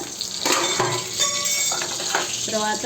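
Cumin and onions frying in a pan for pudina pachadi, a steady close sizzle with the clink of a spoon stirring against the pan.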